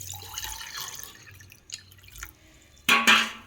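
Water splashes into a bowl of pearl millet in a short, sharp burst near the end, after quieter dripping and clinking.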